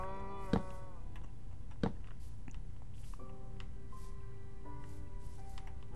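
A mooshroom cow in Minecraft gives two short moos near the start, with some quieter game sounds and faint tonal chimes after.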